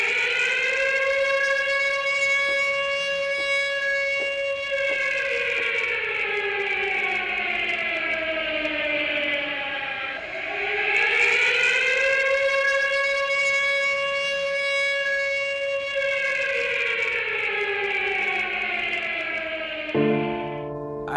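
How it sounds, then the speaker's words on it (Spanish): A civil defense memorial siren sounds for the commemoration of the AMIA bombing, 27 years on: a loud, sustained wail that slowly falls, rises again and falls over about twenty seconds before cutting off abruptly. "En exactamente 5 segundos comenzará a sonar la sirena"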